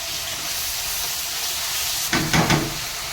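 Ginger and poppy seed paste hitting a hot pan for a pabda fish curry, a steady bright sizzle and hiss with a few louder spatters and stirring bursts near the end.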